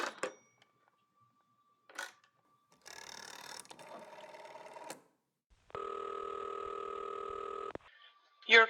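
In a radio drama, a rotary telephone dial clicks and whirs, a short line sound follows, and then a steady, loud buzzing line tone sounds for about two seconds, with brief bursts of voice around it.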